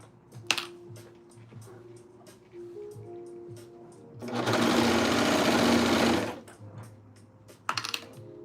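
A sewing machine stitches a hoodie, a loud close whirring burst of rapid stitching lasting about two seconds, framed by quieter clicks and handling noises.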